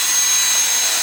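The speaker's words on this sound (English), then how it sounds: "I'll just use my Milwaukee drill" A Milwaukee drill bores a hole in the bottom of a flower pot, giving a brief, loud, high whirring whine that is close and steady for about a second, with no talk.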